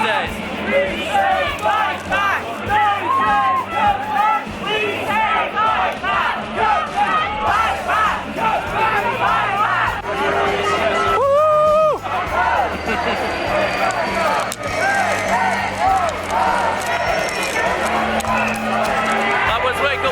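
Large anti-austerity protest crowd marching against the Tory Party Conference in Manchester, many voices chanting and shouting together in a dense, continuous roar with rhythmic bursts, close and loud throughout, with a brief whistle-like tone partway through.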